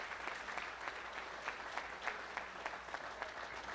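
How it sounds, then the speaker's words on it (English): Quiet, distant applause from an audience at the 2017 WAAC awards ceremony, a steady patter of many hands with a few sharper claps standing out. "round of applause for you guys"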